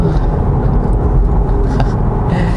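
A BMW 530i xDrive with the M Sport package cornering on the road, heard from inside as a steady, loud low rumble of engine and road noise with no change across the moment.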